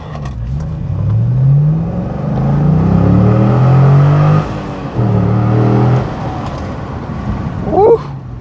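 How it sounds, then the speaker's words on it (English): A 2013 C6 Chevrolet Corvette engine revs hard through a gear, its rising roar climbing to redline, dropping at the shift, then climbing again before easing off, loud and close. "You're gonna hear your first red line shift."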